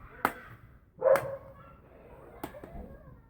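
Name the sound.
dog barking in the background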